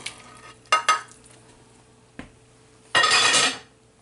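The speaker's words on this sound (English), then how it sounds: "Next, we add the beef back with all the juices and everything." Beef with its juices added back into a stroganoff sauce in a pan, giving a few close clattering clinks of utensil on pan, then a loud burst of sizzling and stirring that fades out, with no voices.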